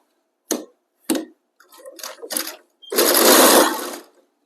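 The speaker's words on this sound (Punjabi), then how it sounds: "ਇਸ ਉੱਤੇ ਸਿਉਣ ਲਾਉਣੀ ਹੈ" A sewing machine stitches a seam on fabric for a kachhera, a traditional undergarment. It gives two short bursts, then several brief runs, then a longer sustained whir, all close and without talk.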